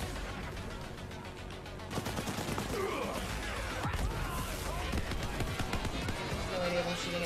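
Weapons fire in the shooter game Borderlands 3 as bursts of rapid shots and impacts, dense and loud after a brief quieter start and mixed with other game effects.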